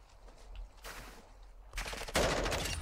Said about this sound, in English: Oh, you're shooting at me, I guess so.